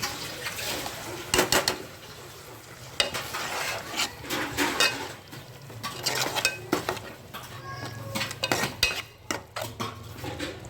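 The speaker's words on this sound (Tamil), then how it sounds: "இப்போ நம்ம அரைச்சி வச்சுருக்கிற இந்த பேஸ்ட்டு போட்டுக்கலாம். அதையும் சேர்த்து நல்லா மிக்ஸ் பண்ணிக்கலாம்." Ground masala paste stirred into sautéed tomatoes in a pan for fish kuzhambu, with irregular metal spoon scrapes and clanks against the pan over a low sizzle, loud and close, no talk.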